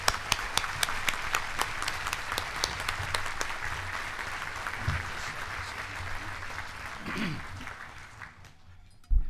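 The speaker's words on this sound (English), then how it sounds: "Please join me in applause in welcoming the new mayor of Salem" An audience applauds to welcome the new mayor of Salem at a State of the City address. Loud, dense clapping fills most of the clip, then thins and fades toward the end, with a brief voice in the crowd.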